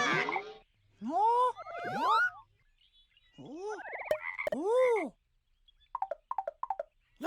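A cartoon-style frog croaks in a few bouncy, pitch-swooping calls, loud and close, followed by a quick run of short choppy croaks near the end, with no talking over it.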